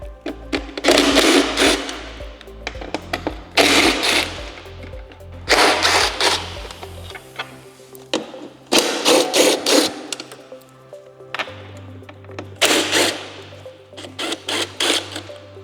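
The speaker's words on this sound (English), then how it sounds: "Then we're going to remove the 5 T25 bolts holding in the pod." Power driver backing out five T25 bolts from the fairing pod of a Harley-Davidson Street Glide Ultra, about six loud whirring bursts of a few seconds each, separated by short pauses.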